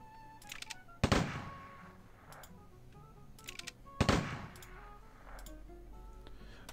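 Two heavy field artillery blasts in Imperialismus 2, about three seconds apart, each a sharp loud boom trailing into a rumbling decay, with faint game ticks and clicks in between.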